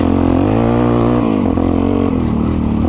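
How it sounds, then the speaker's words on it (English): A loud dirt bike engine rumbles close by on gravel with a harsh, raspy exhaust note, revving slightly up and down throughout. "One thing that I don't like about this bike is the exhaust. It's so stinking loud."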